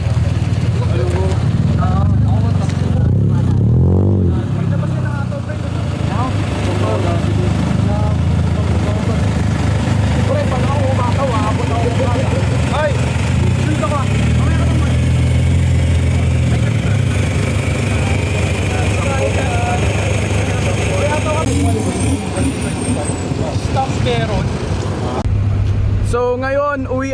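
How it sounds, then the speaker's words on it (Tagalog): At a university car club meet late at night, several car engines warm up and idle in a steady low rumble. People talk over the engines throughout. "Lahat nagpapainit na ng makina"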